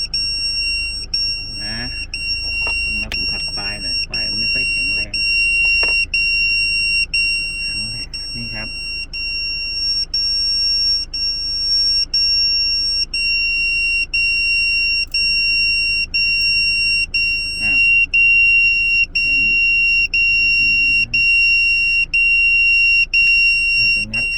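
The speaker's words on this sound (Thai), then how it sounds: "มันดังเพราะตัวนี้ครับ ตัวบาเซอร์" A card reader's electronic buzzer beeps repeatedly in a rapid, even pattern throughout, loud and continuous, while someone talks over it and handles objects nearby.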